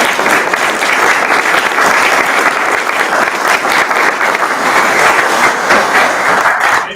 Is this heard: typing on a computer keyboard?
no